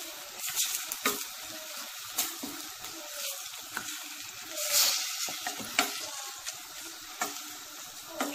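Bolognese sauce sizzling and simmering in a pan on the stove, a steady crackle with occasional stirring clatters and scrapes, close and moderately loud, no talk.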